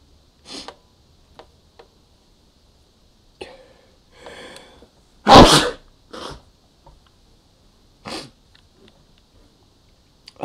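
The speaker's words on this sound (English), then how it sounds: "I'd rather not get annoyed by my sneezes" One loud, sharp sneeze breaks a quiet room, surrounded by a few soft breaths and small scattered rustles.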